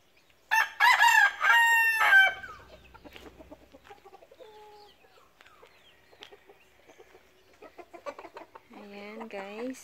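A rooster crows loudly near the start, followed by softer clucks and bird calls, with a person speaking toward the end.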